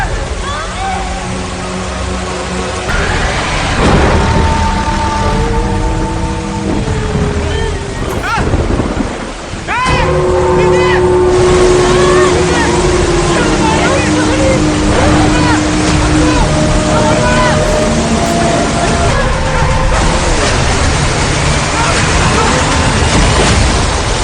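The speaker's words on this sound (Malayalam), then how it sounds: "വെള്ളച്ചാട്ടം." A waterfall in a movie scene roars as a steady, dense rush that runs through the whole stretch, with music tones and voices layered over it.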